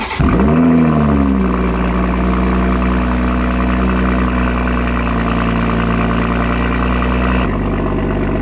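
Modified Toyota GR Supra engine starting up loud and close, a sharp rev flare settling into a steady deep idle rumble, with a short blip near the end.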